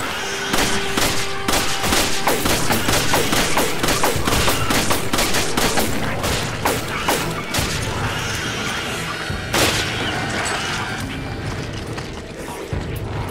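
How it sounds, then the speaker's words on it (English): Gunfire from Resident Evil 5 crackles almost without pause, dense rapid shots and mechanical clatter piling into a loud, continuous barrage with a few heavier impacts. "Shoot him in the fucking hips!"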